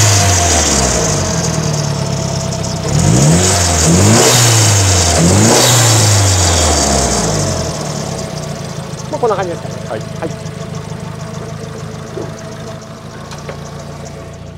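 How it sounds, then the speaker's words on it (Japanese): A Nissan S15 Silvia engine is blipped through a few loud revs, then settles to a steady idle while a worn fan belt chirps in short repeated squeaks, with someone talking over it. "エンジンかけると、 ベルトの音は します キュッキュッキュッって鳴ってますけれども"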